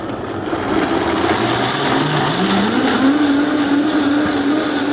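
A countertop blender whirs steadily on vegan cheese sauce ingredients, boiling water, mustard and seasonings, loud and close, with the motor pitch rising as the mixture smooths out; no talking.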